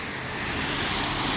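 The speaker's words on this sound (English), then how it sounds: "Sorry about the road noise, but I really can't control it." Brief, steady road traffic rumble and hiss from passing cars near a parked vehicle, a broad wash of noise that grows slightly louder, with no voices.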